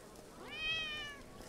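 A cat in the video game Unearthed: Trail of Ibn Battuta gives a single soft, rising-then-falling meow, quiet and close, with no talk over it.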